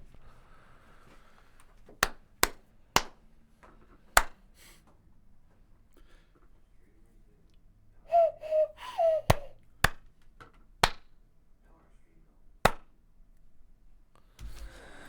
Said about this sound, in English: Give me a couple claps.